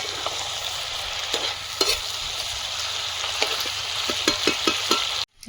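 Garlic chicken stir-fries in a pan, a steady close sizzle broken by scraping stir strokes and light clinks of the spatula, with no talk.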